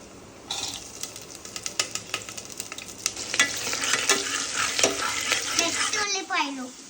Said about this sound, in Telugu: ఉల్లిపాయలు మెల్లగా కలుపుతున్నాను